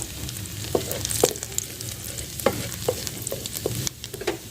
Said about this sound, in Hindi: लहसुन को हल्का सा ब्राउन करेंगे।